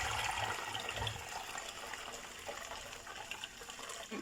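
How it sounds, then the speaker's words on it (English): Water poured from a tap or jug over pineapple peels while making a Ghanaian sobolo hibiscus drink, giving a steady gushing, splashing flow that is strongest at the start and continues close up without talk. "I'm going to add the water on the pineapple peels to it."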